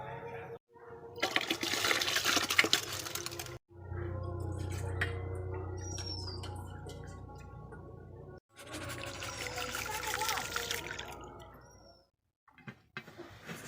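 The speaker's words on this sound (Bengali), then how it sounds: "চাল আর মুসুর ডালটা ধুয়ে হাঁড়িতে তুলে দেব।" Rice and masoor dal are rinsed and tipped into a cooking pot for khichuri: two long bursts of sloshing, pouring water separated by quieter handling, ending in a brief pause.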